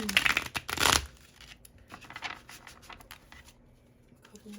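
Tarot cards being riffle-shuffled: a loud flurry near the start, then softer, irregular flicks and slides of cards continuing nearby.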